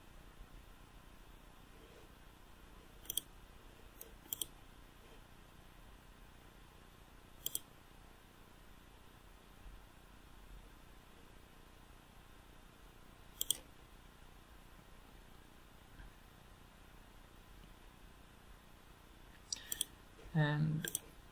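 Faint, sparse single computer mouse clicks, about half a dozen spread across a quiet room hum, followed by a short cluster of quick clicks near the end.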